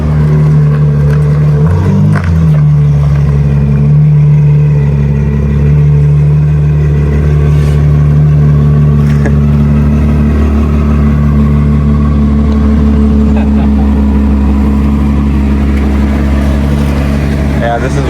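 A Ferrari 812 V12 with a full Novitec straight-pipe exhaust system rumbles loudly and close by, holding a deep, steady engine drone with a brief rise in revs near the start.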